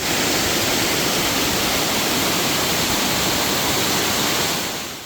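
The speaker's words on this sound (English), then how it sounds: "Water drips from above, small streams cross the path" Water drips and small streams run across a cave path of slick rock and volcanic soil near Malang, Indonesia, making a steady, dense rushing wash with no pauses.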